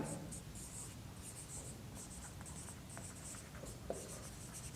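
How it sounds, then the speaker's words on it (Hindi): Pen scratching steadily across paper during a Class 12 math exercise on derivatives, a continuous soft scribbling with short strokes and pauses, close and quiet, with no talk. "मुझे लिखना पड़ेगा"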